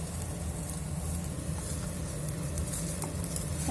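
Tom yam paste fries and is stirred in a pan with lime leaves, a continuous close sizzle with soft scraping and scattered pops, steady and unbroken, with no voices.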